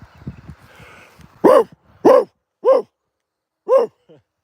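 A dog barks four times in fairly regular, sharp bursts, loud and close, after a stretch of faint rustling and low background noise.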